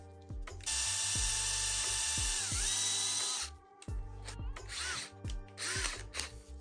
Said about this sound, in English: now I'm gonna do my pilot hole for the second screw.